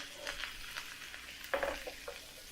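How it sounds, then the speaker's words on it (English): Steak searing in olive oil in a sauté pan, a soft steady sizzle and crackle with a few sharper pops, close and fairly quiet with no talking. "And then we'll just place our steak right in the pan and allow that to blacken."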